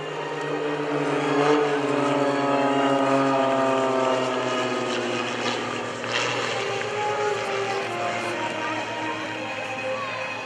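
Iron Eagle aerobatic planes drone overhead on an upright inverted pass at an airshow at Greenwood Lake, a sustained, loud propeller-engine roar that swells and holds throughout, with an announcer's voice over it.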